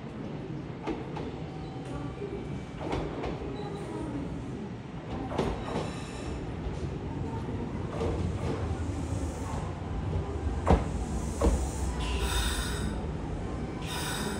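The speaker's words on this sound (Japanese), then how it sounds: "ただ走行音とかドアの開閉音に関しては全て近鉄6200系と同じ。" Kintetsu train running with 6200 series running gear and doors: a steady rumbling ride noise with clicks and rattles, and a door chime near the end, heard from inside the carriage.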